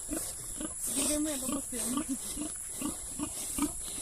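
A pig grunts and snorts in a repeated rhythm close by, short low bursts under people talking.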